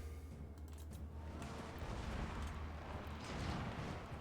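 Cannons firing in a Total War: Warhammer II battle with dwarf artillery, heard as continuous rumbling, booming battle noise at moderate level with no clearly separated shots.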